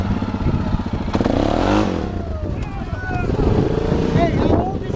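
A motorcycle engine revs hard and loud up close as the rider pulls wheelies at a mud-riding event, the pitch rising and falling with each throttle blip while people talk over it.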